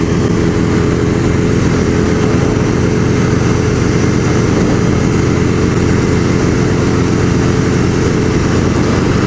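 A 1987 Honda Rebel 250 motorcycle rides along the road with a loud, steady engine drone and constant wind rush, continuous and close throughout.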